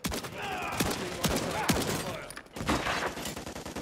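Rapid gunfire bursts crack through a Modern Warfare 3 campaign firefight, several sharp overlapping volleys close and loud, with a brief lull before shooting resumes.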